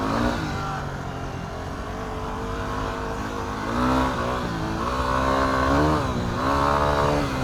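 A 2008 Yamaha WR250R dual-sport motorcycle cruises along a road, its engine droning steadily with gentle rises and falls in revs, close and loud with no talk.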